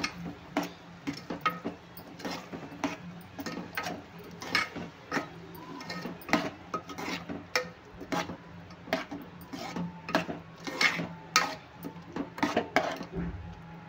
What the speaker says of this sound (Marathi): तर आता हे छान मिक्स करून घेते।